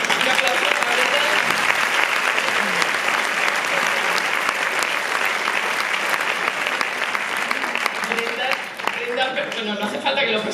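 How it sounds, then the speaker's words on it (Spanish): An audience bursts into sustained applause as a guest is welcomed on stage at a season-opening event in Zaragoza with Celtic music. It is a dense, even wash of many hands clapping throughout, with a voice faintly heard near the end. "Un aplauso para Brendan."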